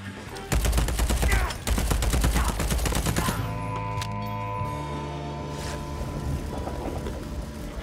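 Rapid gunfire from weapons in the first-person shooter Deathloop, loud repeated bursts of shots for a few seconds that stop abruptly, followed by a lingering mechanical hum and tonal game sounds.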